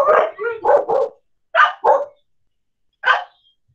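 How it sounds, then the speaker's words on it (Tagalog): A family dog barks in a burst of several quick, loud, close barks, then pauses and gives two more, followed by one final bark after a short gap. "Sorry sa aso namin,"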